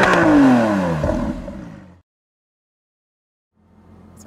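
A 2024 Toyota Land Cruiser's turbo four-cylinder engine cranks and fires, revving loudly for about two seconds before cutting to silence, with a faint return of engine sound near the end.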